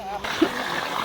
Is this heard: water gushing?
yes